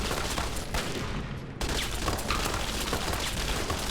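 Turret gunfire in the video game Fallout: TTW rattles out as a dense, continuous stream of rapid shots, loud and close, with one brief break midway.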